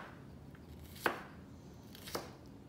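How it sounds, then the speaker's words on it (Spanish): An onion is chopped on a board with two distinct, sharp knife strikes about a second apart, close and quiet, against a faint room background. "Pique la cebolla."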